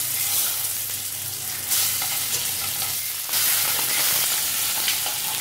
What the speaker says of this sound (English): Then fry in hot oil.